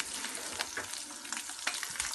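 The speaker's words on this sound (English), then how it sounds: "got some eggs in the pan, gonna have ham and eggs for breakfast" Eggs frying in a pan for a ham-and-eggs breakfast aboard a narrowboat, giving a steady close-up sizzle and crackle with small pops, heard alone without talk.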